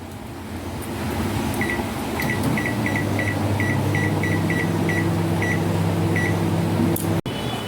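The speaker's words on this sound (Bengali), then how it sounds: "এখন আলুগুলো আমি পেপারে নিয়ে ওভানে দিয়ে দেবো 5 মিনিটের জন্য, সিদ্ধ হয়ে যাবে।" A microwave oven cooking potatoes wrapped in paper, with a steady close hum and a faint repeating series of short high beeps or whines running over the drone before an abrupt stop.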